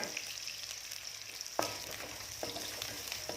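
Food frying in a pan for stir-fried glass noodles with crispy cabbage, with a continuous sizzle and a sharp scrape or clack from stirring partway through.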